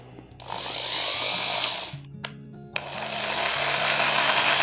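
An Eastman variable-speed electric drill whirs up to a steady high whine, stops briefly with a couple of sharp clicks, then spins up again and runs on, close and alone without talk.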